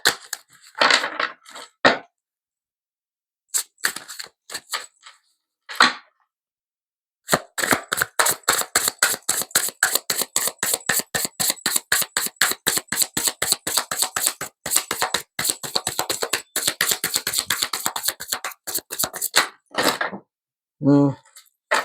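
Short bursts of rapid tarot card flicking, then a long fast riffle of crisp clicks, close by with brief pauses between.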